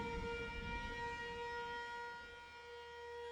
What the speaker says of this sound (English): a low droning sound sounds across the wood like an actual storm siren used for tornadoes